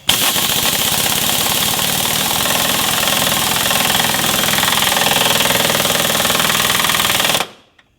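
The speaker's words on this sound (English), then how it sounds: "we're going to hit the other end with the impact" An impact wrench sets a nut cert during a transfer case skid plate install, a loud continuous rapid hammering burst lasting about seven seconds before cutting off abruptly.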